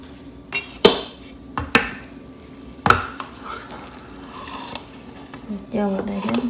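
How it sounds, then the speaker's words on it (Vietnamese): Two batches of raw pork paste being mixed together by hand, heard as close wet squishing and slapping with several sharp thuds against the bowl early on and softer stirring after, with a faint voice near the end. "Hai cái mình trộn chung luôn."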